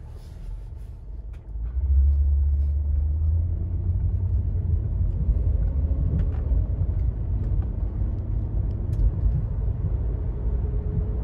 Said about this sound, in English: We'll go ahead and do a quick test drive.